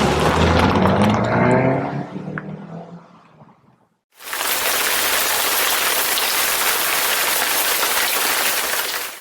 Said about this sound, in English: It began raining really hard.